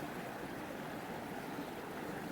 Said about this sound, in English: I can hear and smell this raging creek filled up after the rains.